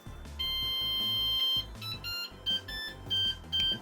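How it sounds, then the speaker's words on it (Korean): A Cuckoo-style appliance plays its electronic startup melody after being switched on: a short run of bright, clipped beeps and tones in a quick tune, loud and close, with no voices. "쿠쿠 밥솥이야? 쿠쿠 하세, 약간 그런 음악이 드는데 삐삐리 삐삐 약간 이런 노래가 들리고요"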